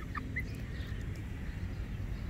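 Chickens in a backyard run, with a possible young rooster among the hens, give soft clucks and brief calls over steady low outdoor noise, fairly faint and close by.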